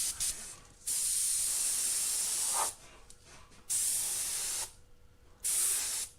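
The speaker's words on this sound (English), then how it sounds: "I'm going to pick my airbrush" An airbrush blows acrylic paint across a board in three or four long, steady hissing bursts separated by quiet pauses. The spray is close and clear, with no talking.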